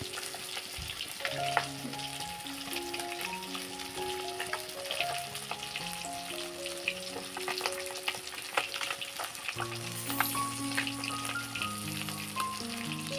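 Fish sizzles steadily in hot oil in a home kitchen, a constant close frying hiss running under a melodic music track with no one speaking.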